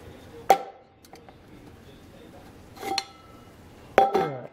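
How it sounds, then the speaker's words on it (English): A metal can set down over a small alcohol camping stove to snuff its flame, with three sharp, close metallic clinks spaced apart against a quiet background. "I'm going to go ahead and use another can just to kind of snuff it out"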